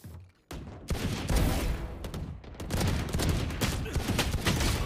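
Rapid gunfire in the Valorant video game, a flurry of sharp shots and bursts after a brief quiet opening, loud and dense with clattering impacts throughout.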